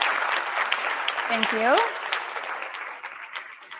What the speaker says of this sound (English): To all of our panelists, just give them a round of applause.